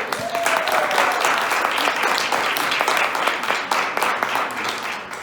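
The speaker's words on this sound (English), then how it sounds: "everybody give one more round of applause to Castillo" An audience at a youth poetry and music event in a black box theater applauds, dense sustained clapping that stays loud before easing slightly at the end.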